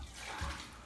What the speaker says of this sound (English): We're going to use our stock. Pour that in there.